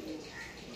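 Arshad pigeons coo in a short, soft burst of low murmuring calls, close by and fairly quiet, with faint background noise.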